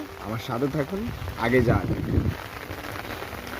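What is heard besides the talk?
rain falling on flooded fields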